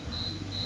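Crickets chirp steadily outdoors at night, a thin high trill pulsing in two long bursts over a faint background hum.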